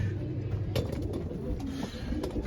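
Pigeons in a breeding loft coo softly and steadily amid low background rumble, with a few faint clicks and rustles.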